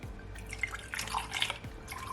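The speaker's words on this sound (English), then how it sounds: "I'm just gonna pour my carrot juice to my glass." Homemade Jamaican carrot ginger juice poured into a glass, a soft liquid trickle with faint splashes and drips, close and quiet with no talking.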